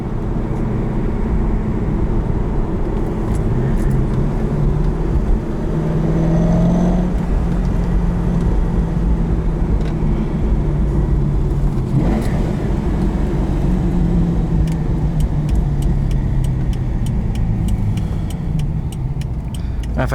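A 2001 Chevrolet Corvette C5 Z06 V8 heard from inside while driving, a steady loud engine drone with rising and falling revs as the throttle changes, road and wind noise beneath, no talk.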